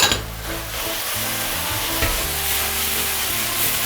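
Shredded cabbage, sweet and green pepper strips and pork shreds stir-fried in a wok give a loud, continuous sizzle with stirring scrapes, steady from start to finish and free of talk.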